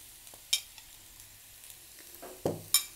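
Jackfruit seeds frying in a pan with pepper powder, a quiet sizzle under a few sharp scraping stirs of a spoon against the pan, two of them close together near the end.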